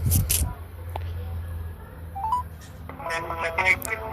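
Phone dialing tones while calling mom: a low hum and a handset click give way to a row of short beeping tones, with someone speaking briefly alongside.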